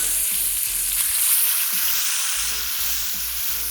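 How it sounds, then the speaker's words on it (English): A ribeye steak sears in a hot pan, with a continuous, close crackling sizzle and some faint low bumps from the pan throughout. "We're gonna check on our ribeye. It's been searing on one side for a while now."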